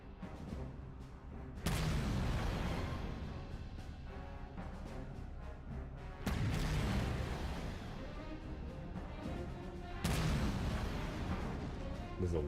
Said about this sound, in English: This is the weakest explosion of all time